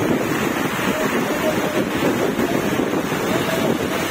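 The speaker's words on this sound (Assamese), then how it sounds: "ডাঙৰপিটা বৰষুণ দি আছে" Heavy rain and strong wind pour down over a village in Assam, a dense, steady roar of broadband noise with wind buffeting the microphone throughout, loud and unbroken.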